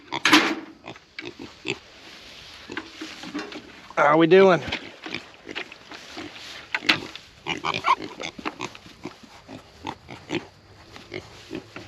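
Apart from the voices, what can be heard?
pigs grunting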